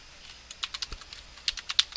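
Someone types on a computer keyboard, a short run of light, crisp key clicks in an uneven rhythm, close up and quiet, with no talking.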